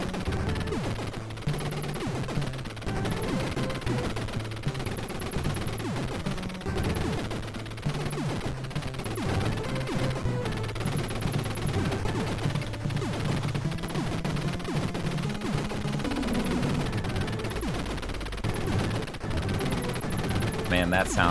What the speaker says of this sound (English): NES busting out a high quality PCM sample in the music